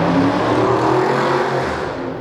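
A police Dodge Charger four-door sedan with a Mopar engine drives past, a loud, steady engine roar close by that holds for about two seconds and eases off slightly toward the end.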